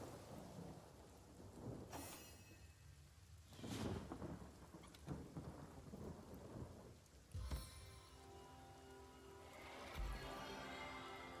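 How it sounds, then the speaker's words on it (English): Steady rain patters down in the video game Divinity: Original Sin while several cracks and rumbles of thunder break out, one near the start, others spaced through the rest. "Rain nurtures our land."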